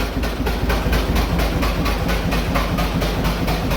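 A John Deere AR tractor runs with its PTO engaged, giving a steady, loud, continuous engine drone with a regular pulsing chug and a heavy low rumble, with no talking.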